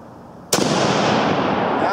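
A single sharp, loud report from an 8mm Mauser World War 1 rifle, with a sudden onset followed by a long, noisy echo rolling across the range.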